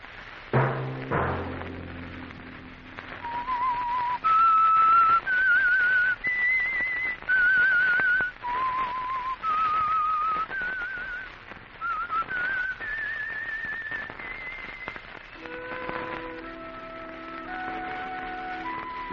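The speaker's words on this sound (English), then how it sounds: "Let that whistle be your signal" A clear, loud whistled melody, steady and tuneful, carrying on alone for several phrases with a faint musical accompaniment beneath.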